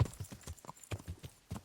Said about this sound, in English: Okay, I want to jump on this horse.